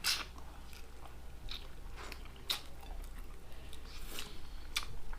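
Crunchy fried fish being chewed close up, bones and skin included, with scattered crisp bites and crunches over a steady low background hum.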